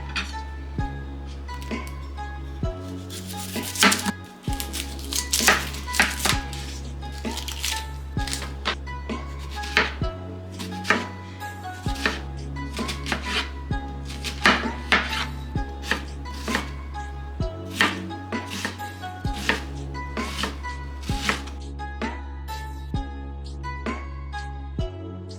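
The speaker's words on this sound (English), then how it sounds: "Let's start finely mincing this onion." Onion being finely minced with a knife on a cutting board for Chaliapin steak, a fast, steady run of close, crisp chopping taps repeating for a long stretch with brief pauses, no talk.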